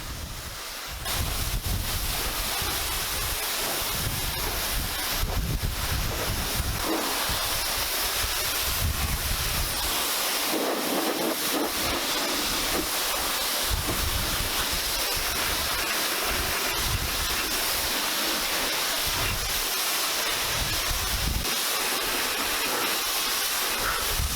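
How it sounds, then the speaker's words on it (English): Water spraying over a car to rinse off snow foam, working from the roof down: a steady, loud hissing wash of pressurised spray with shifting splashes, continuous and close, with no voices. "rinse the vehicle off from the roof down"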